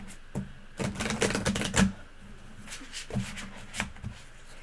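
Tarot cards are riffled and shuffled by hand in several short bursts of crisp, rapid flicking and slapping, close and fairly quiet, with pauses between them.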